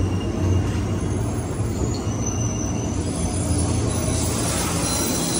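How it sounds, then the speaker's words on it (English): A train rumbles along with a steady roar of wheels on the rails and a faint squeal above the noise. The sound is constant and close. "riding the trains"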